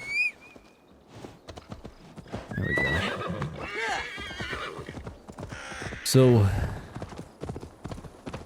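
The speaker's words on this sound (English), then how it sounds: "Let's get our horse." Horse hooves clop steadily while a horse neighs loudly partway through in Assassin's Creed Valhalla, with a person talking over the sounds and game-like ambience underneath.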